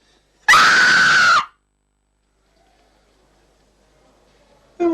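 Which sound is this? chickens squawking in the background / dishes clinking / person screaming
person screaming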